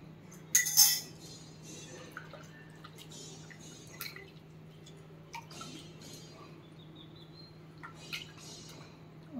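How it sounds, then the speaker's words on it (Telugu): Tamarind juice is poured into an eggplant curry as a faint, soft trickle with scattered small drips and splashes, quiet and close, with no voices. "ఇప్పుడు చింతపండు పులుసు పోసుకున్నాము."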